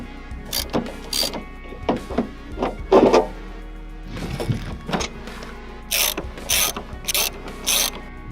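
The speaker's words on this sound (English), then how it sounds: "The most trusty of tools is apparently the 10mm socket" A ratchet wrench with a 10mm socket clicks in short bursts of rapid ticking, close and distinct, while working on a 1997 Jeep Cherokee rear wiper motor.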